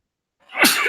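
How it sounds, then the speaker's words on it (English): A single sharp human sneeze bursts out after near silence, loud and close, with a short breathy tail. "a little sneeze there"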